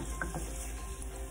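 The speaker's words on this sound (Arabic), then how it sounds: "حطيت البصل المكعبات، هشوحه كده لغايه لما يبقى لونه ذهبي" Diced onion sautéing in a pan for an okra and beef tajine, a soft steady sizzle with faint stirring scrapes near the start, close and even throughout.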